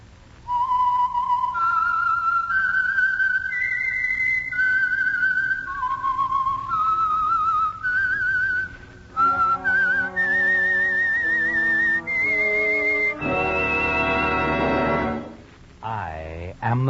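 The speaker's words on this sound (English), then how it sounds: "the signal to listen for is this whistle that identifies the Signal Oil program" A lone whistled melody, the theme identifying the Signal Oil radio program, rises and falls clearly in steady phrases. An orchestral sting follows near the end.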